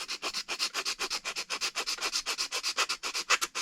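A 3D printed part is sanded with 120 grit sandpaper in quick, regular back-and-forth strokes, close and fairly quiet, a rhythmic rasping with no talk.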